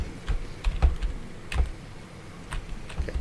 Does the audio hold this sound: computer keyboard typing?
yes